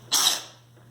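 A single sharp sneeze bursts out near the start, bright and hissy, then trails off quickly into a faint steady hum.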